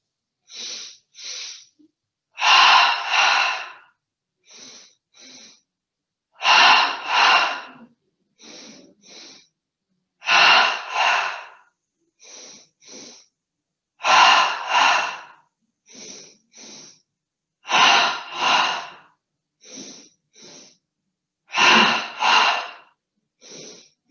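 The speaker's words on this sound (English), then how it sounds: "start with 10 double breaths, breathing in through the nose and out through the mouth" Paired breathing during a seated yoga recovery session, each cycle a quick double inhale through the nose followed by a longer, forceful exhale through the mouth, repeating steadily and close with quiet gaps between.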